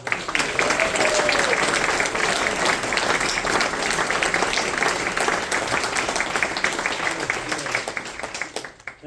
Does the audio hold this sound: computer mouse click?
no